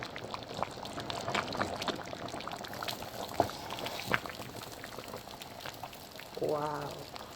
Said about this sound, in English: I stir.